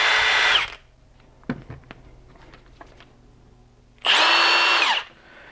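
A Milwaukee impact driver runs in two short bursts, a loud close whirring whine at the start and again near the end, with quiet handling clicks and knocks in between.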